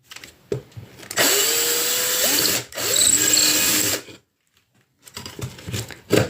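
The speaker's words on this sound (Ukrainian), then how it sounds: "Взагалі, отвір ну, зручніше, точніше, зробити його просто сверлом." A power drill bores a hole into drywall for a plasterboard anchor, whining steadily in two sustained bursts close by, with a brief pause between and quieter handling noise before and after.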